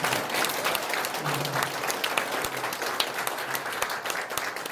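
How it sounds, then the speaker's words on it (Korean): A crowd applauds steadily at a lawyer's press conference on a criminal complaint against JTBC, a dense, even wash of clapping that fills the whole stretch with a faint voice now and then. "박수 한번 치세요."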